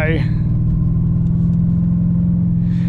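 A Holden VT with a 5 litre engine drones steadily while driving, a loud, constant low rumble that holds an even pitch throughout with no pauses or gear changes.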